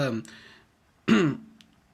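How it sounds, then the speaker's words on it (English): A person nearby clears their throat in two short, rough bursts separated by a brief pause. "get the cough out"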